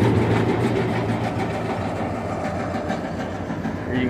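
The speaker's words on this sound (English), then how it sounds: "We will start the auger." Clipper AGM 224 seed cleaner running with its auger, a steady, dense mechanical rattle and rumble that holds at an even loudness throughout.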